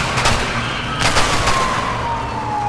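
Gunfire in the video game A Way Out, a few sharp shot bursts in quick succession over a wailing police siren and steady game background noise.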